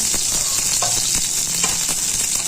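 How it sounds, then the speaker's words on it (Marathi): A little oil sizzles in a hot pan before mustard seeds go in for a vegetable bhaji, a constant close crackling hiss dotted with small pops. "तर आहे ना थोडंसं तेल टाकायचं आहे"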